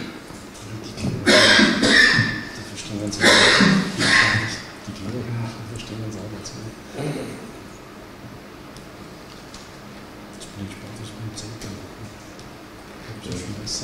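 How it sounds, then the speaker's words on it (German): Several harsh, loud coughs close by in quick bursts, then quieter breathing and faint throat noises. "muss ich aufhören, weil sonst kriege ich den Husten voll"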